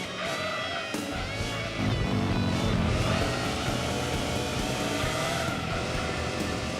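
Car engine in the racing game Gran Turismo 2, a steady, loud revving drone with shifting harmonic tones and no break, rising slightly in intensity partway through.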